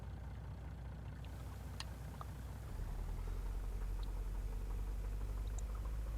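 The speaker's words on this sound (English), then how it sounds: "Oh, nice engine sound." Vehicle engine in the video game Farming Simulator 19 hums quietly at a low idle, deepening and growing slightly louder partway through, with a few faint clicks and no talking.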